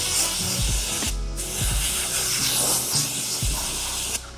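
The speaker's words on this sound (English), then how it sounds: "Just to make sure it's extra dry, I'm going to get the airline on it." Compressed air line blowing water off the plastic trim of a Vauxhall Corsa, a loud, close, continuous hissing blast broken by brief pauses and accompanied by low knocking handling noises.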